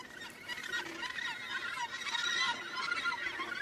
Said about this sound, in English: The gannets are coming home after fishing.